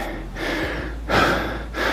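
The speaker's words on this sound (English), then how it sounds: "So I'm still breathing hard, and that's the benefit of working legs." Heavy, hard breathing from a person winded just after a leg workout, with loud gasping exhales in separate bursts, close and clear, with no talking.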